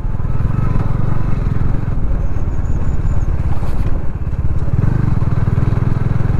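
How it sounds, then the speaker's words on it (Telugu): A Bajaj Dominar motorcycle fitted with an adventure touring kit rumbles loudly and close, its engine throbbing steadily with a brief dip partway through before picking back up. "సింపుల్గా మీకు ఇంకొకసారి మనం ఆఫ్ రోడ్ అయితే చేద్దాం ఈ బైక్తో."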